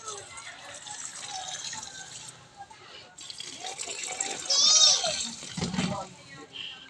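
Water poured onto very dry garden soil while two trees are being planted, a soft running gush and splash up close that swells briefly near the end, mixed with a voice and quiet talk.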